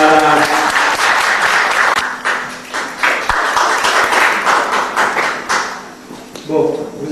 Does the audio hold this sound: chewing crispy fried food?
no